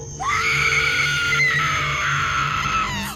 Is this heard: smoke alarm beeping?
no